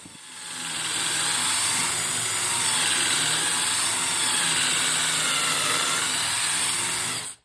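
A power drill bores pocket holes for assembling rustic wooden display frames, running as one steady, loud, continuous whine for about seven seconds before stopping abruptly, with no talking.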